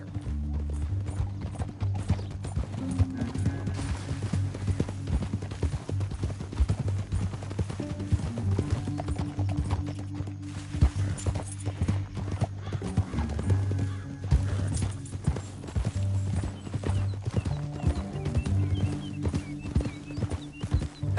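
Horses' hooves clip-clop steadily in Red Dead Redemption 2 for over twenty seconds, with occasional neighs and a low continuous rumble beneath, while voices talk intermittently.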